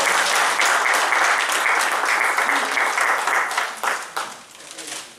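Loud, dense audience applause at an award function welcoming an honoured guest, steady and sustained before tapering off toward the end, with some voices underneath.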